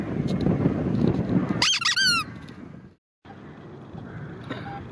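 Squeaky plastic dog toy, apparently found in a farm field, gives a short burst of sharp rising squeaks in the middle, heard over wind buffeting the microphone and outdoor rustling, followed by a brief dropout.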